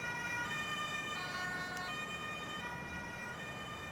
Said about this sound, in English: turn on the siren independently